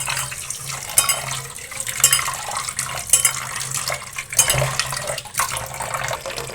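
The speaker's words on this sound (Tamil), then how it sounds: "இப்போது நம்ம இதை நல்லா தண்ணி ஊற்றி வாஷ் பண்ணிக்கலாம்" Water splashes and pours over goat intestines being washed by hand, with wet slapping handling sounds and irregular gushes close by and fairly loud.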